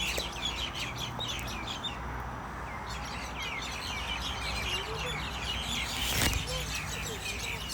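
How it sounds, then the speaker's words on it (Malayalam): Birds in the grounds of Al Alam Palace in Muscat chirp and sing continuously, a busy chorus of short high calls over steady outdoor background noise, with a brief louder clatter near the end. "കിളികളുടെ മ്യൂസിക് കുറച്ച് നേരം കേൾക്കാം അല്ലേ."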